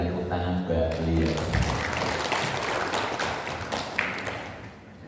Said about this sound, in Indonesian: Untuk itu kita berikan tepuk tangan buat beliau